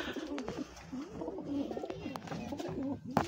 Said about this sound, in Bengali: দেশি পায়রাটা